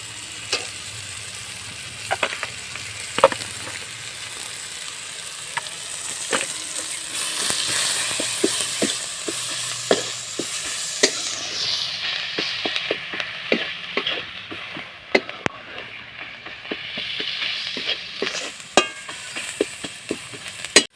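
Onion with chili powder frying in a pan while being stirred, with a steady sizzle and repeated scraping stir strokes, close and fairly loud, no talking.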